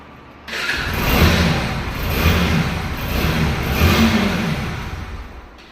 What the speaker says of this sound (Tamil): அதே மாதிரி நான் உங்களுக்கு வண்டியை ஸ்டார்ட் பண்ணி காமிக்கிறேன் பாருங்க